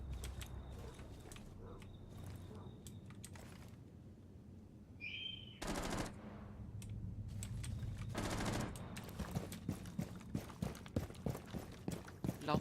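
Short bursts of gunfire from Yeager's weapon in a tactical shooter game crackle at moderate volume, separated by quieter mechanical clicks and a brief electronic tone, with rapid sharp shots clustering toward the end.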